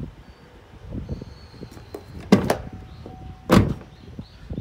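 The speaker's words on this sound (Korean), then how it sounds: "문을 닫으면은" Two solid car door thuds from a 2016 Chevrolet Camaro closing, one after another about a second apart, close by over a quiet background with faint rustling.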